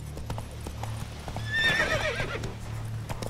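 Roach, a horse in The Witcher 3, clip-clops at a walk with steady hoofbeats, and a loud neigh rises midway, close and clear over faint ambient game sound.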